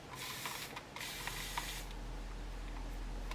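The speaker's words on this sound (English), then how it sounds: "we're going to spray his hair with water" Repeated soft hissing bursts of a gentle water mister spray bottle wetting a boy's hair for a haircut, several quick pumps close up, with no talking.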